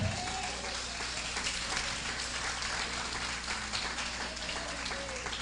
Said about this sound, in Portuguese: aplaude Ele bem forte, amém?